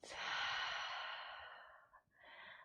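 A slow, deep inhale followed by a long, breathy exhale during a yoga flow, soft and close, with a brief pause before another breath.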